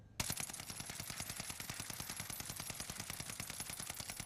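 Rapid automatic fire from an STG44 in a video game with regular recoil, a steady stream of sharp, evenly spaced shots that runs close and loud for the full length with no pauses.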